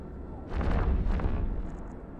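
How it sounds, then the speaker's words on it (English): A Naglfar capital ship in a space video game fires its weapons, producing a heavy booming volley of several rapid thuds that swell and fade over a low rumbling background. "The Naglfar is trying to shoot me."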